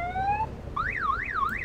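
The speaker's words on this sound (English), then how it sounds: "Uh-oh, somebody's got an alarm on." A car alarm in the Roblox game Vehicle Simulator: a rising tone sweep, then a fast warbling up-and-down wail repeating steadily, loud and alone.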